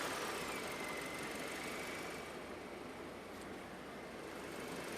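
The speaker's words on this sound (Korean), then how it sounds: "엔진의 회전 속도를 2500rpm으로 증가시켜줍니다." A car engine runs with headlights on high beam, air conditioning, blower at maximum and heated elements switched on, its revs raised and held at about 2500 rpm as a steady, fairly faint hum with no talk.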